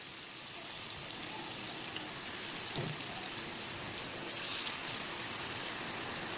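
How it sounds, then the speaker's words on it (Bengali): Fish frying slowly in hot oil, heard as a steady, even sizzling hiss with a soft crackle that holds throughout and brightens slightly near the end. "মাছগুলো এবার আস্তে আস্তে করে ভেজে নিই।"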